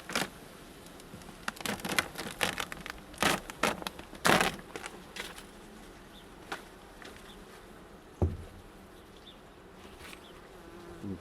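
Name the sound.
bees buzzing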